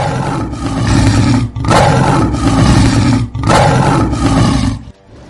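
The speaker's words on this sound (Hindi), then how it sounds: "जोर से दहाड़ता है।" A big lion in a children's moral story lets out three loud, drawn-out roars, each a few seconds long with short breaks between, close and filling the scene, with no voices over it.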